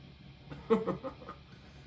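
A pet chicken gives a few soft clucks and murmurs close by, a brief run of throaty notes in a quiet room.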